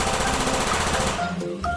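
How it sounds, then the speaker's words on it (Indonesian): A toy automatic pistol fires a rapid, loud mechanical rattle of repeated bursts for over a second, then breaks into electronic beeping tones and sound effects. "Wow, pistol otomatis."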